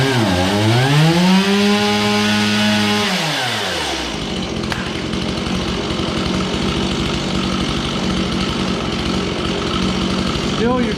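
An Echo chainsaw fitted with a new carburetor cold-starts and revs up, then settles into a loud, steady run close by, its engine note rising and falling before holding a constant roar.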